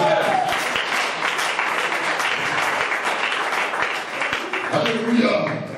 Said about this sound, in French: On va faire applaudir la gloire